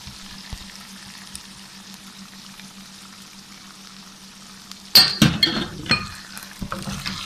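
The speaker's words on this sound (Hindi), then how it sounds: "इसके बाद हम इसमें डाल देते हैं प्याज जो हमने पीसा हुआ है।" A pan sizzles quietly, then ground onion drops in with a burst of louder crackling and spitting that settles into uneven frying.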